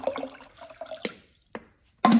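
Water splashes and trickles into a plastic steam pot for a portable steam sauna in short, close bursts broken by brief gaps, with no talking.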